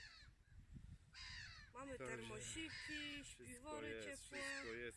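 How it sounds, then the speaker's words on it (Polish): A flock of birds cry and caw loudly over the water at a lakeside carp-fishing camp in early spring, repeated harsh calls filling the background while someone speaks over them. "Troszkę słychać może w tle te ptaki krzyczące,"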